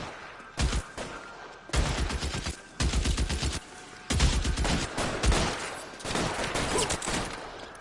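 Gunfire in the video game L.A. Noire crackles in several loud bursts of rapid shots, separated by short lulls, as a shootout erupts.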